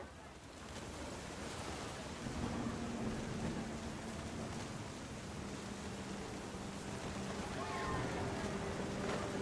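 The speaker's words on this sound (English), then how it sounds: "The thunder sounded much too close and full of angry power." Steady rain hisses in a constant wash of noise throughout a stormy scene in the video game What Remains of Edith Finch. No distinct thunderclap stands out above the downpour.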